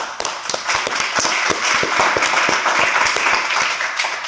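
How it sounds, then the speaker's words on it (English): A live startup pitch event audience applauds the founders who pitched: dense, steady clapping from many hands fills the room throughout, with no speech over it. "Round of applause, too, to all the brave founders that got up and gave their pitch"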